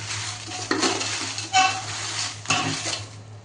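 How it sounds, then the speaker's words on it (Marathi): Guntur chillies roasting in oil in a pot, with a few close scrapes and clinks of a utensil against the metal over a light sizzle and a low steady hum. "आता ह्याच्यावरती पण आपण तेल टाकूया आणि छान भाजून घेऊया"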